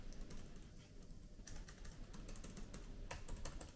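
Fingers type quickly on the keyboard of a MacBook Pro 16-inch M1 Pro laptop, giving a steady run of soft, close keystrokes with a few sharper taps. The room is otherwise quiet.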